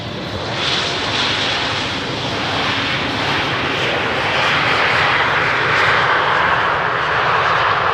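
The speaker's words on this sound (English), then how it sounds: "So this Embraer 190 is coming in from Zurich," An Embraer 190 jet arriving from Zurich roars in to land at Amsterdam Schiphol on runway 18R, a loud, sustained engine rush that swells slightly toward the end, heard alone.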